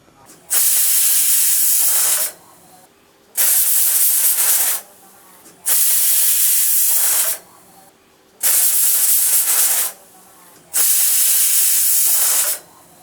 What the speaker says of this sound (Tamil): குக்கரை மூடி வச்சுட்டு ஒரு 5 விசில் வர்ற வரைக்கும் வெயிட் பண்ணலாம்.